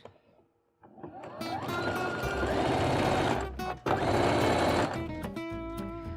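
A sewing machine sewing a hooded scarf runs steadily and close for several seconds after a quiet start, with a short pause partway through before it resumes.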